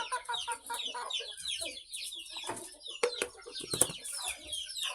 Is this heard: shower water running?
no